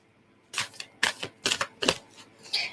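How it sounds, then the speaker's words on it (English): A deck of oracle cards is shuffled during a psychic reading: a series of crisp riffling bursts, about five quick rustling clatters in an uneven rhythm, close and clear with no talking. "I need to shuffle these cards again."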